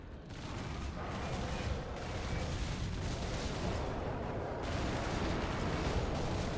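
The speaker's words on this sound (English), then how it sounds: "Oh yes, it's heavy bolter time." Heavy bolter gunfire in a Warhammer 40k video game, a dense, continuous roar of rapid shots and mechanical clatter filling the whole stretch at steady, loud level with no pauses.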